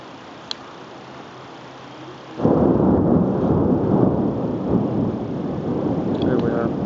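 A lightning storm's thunder rolls in suddenly after a quiet start, a loud, deep, sustained rumble that continues to the end, close and heavy.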